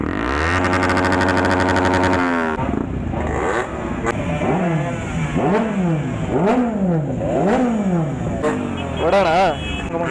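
Several motorcycles rev loudly and repeatedly at the start of a group ride by a Chikkaballapura bikers club, their rising and falling engine notes overlapping close by after a steady idle rumble.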